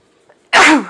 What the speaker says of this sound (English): every time I get on, I have to sneeze